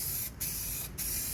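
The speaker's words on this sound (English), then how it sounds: "I'll continue doing this until we've got a nice even coat of primer all over it." Aerosol primer sprays onto a Land Rover Discovery 2 Td5 bumper in close, steady hissing passes broken by two short pauses, with no talking.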